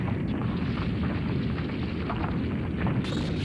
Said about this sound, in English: This was Vegeta's super Big Bang attack.